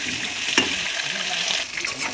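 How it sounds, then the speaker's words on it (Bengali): Potato pieces frying in hot oil for a Bengali chicken curry, a steady close hiss with one brief sharper crackle, no talking. "এই লাল লাল করে আলুটা ভেজে নিচ্ছি"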